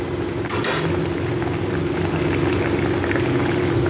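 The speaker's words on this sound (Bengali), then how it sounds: "আর ঝোলটা ফুটে গেছে" Fish curry boils steadily in a pan, a close, continuous bubbling and simmering hiss with a brief clatter of utensil against the pan near the start.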